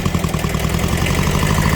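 A Kubota B7000 small Japanese tractor fitted with a rotary tiller idles at very low revs, giving a steady, close mechanical rumble with a fast even pulse and no voices.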